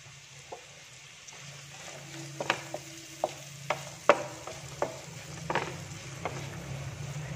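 Onion, green chili, ginger, cardamom, cloves, fennel and turmeric sautéing in a pan in a village kitchen: a soft, low sizzle with scattered sharp spoon clicks and scrapes, fairly faint and without talk.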